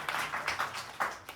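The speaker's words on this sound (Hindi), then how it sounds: "एक बार जोरदार ताली हो जाएगी" Audience clapping for a student who secured a top rank in the REET 3rd Grade exam in Rajasthan, a short burst of several loud claps in an uneven rhythm with no voices over it.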